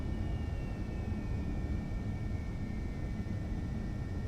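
A steady, droning plane engine from Kerbal Space Program hums at moderate loudness with a faint whine riding on top, running continuously with no voices.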